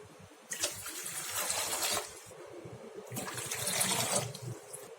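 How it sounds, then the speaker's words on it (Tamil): About 500 ml of water poured from a tumbler in two bursts into a pan, a splashy rushing stream that rises and stops, close and fairly loud. "அதே டம்ளரால் 500 ml தண்ணி சேர்த்துக்கலாம்."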